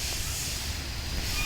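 A Vale wood-carrying freight train rolls slowly past near Baixo Guandu, a broad steady rumble with hissing and faint high wheel squeal, heard from nearby outdoors.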